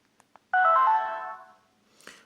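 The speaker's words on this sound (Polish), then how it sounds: "Ale my w tym momencie uruchamiamy telefon." Startup jingle from a Sony Ericsson W200i mobile phone with Orange-branded software, 2007: one bright, loud tonal chime sustained about a second and fading out, preceded by two faint clicks and followed by a short soft noise burst.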